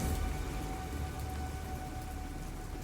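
Steady rain falls on the town of Ramona, a dense, even patter on surfaces with a low rumbling undertone, close and continuous with no voices.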